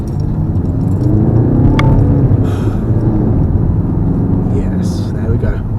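A 2013 Audi A3 2.0 TDI with stiffened suspension is on the move, giving a steady, close engine and road rumble that holds through the whole stretch, with a few faint rattles on top.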